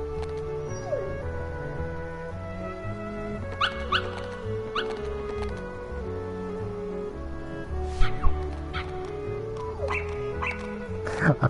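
Dogs barking in the video game Kingdom Hearts HD 1.5+2.5 ReMIX, scattered short yips and barks over a steady game music score with low pulsing bass, heard through headphones.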